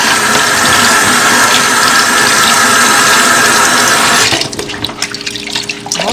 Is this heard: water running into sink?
yes